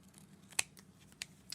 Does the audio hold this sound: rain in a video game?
no